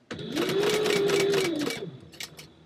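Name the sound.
sewing machine stitching over purse corners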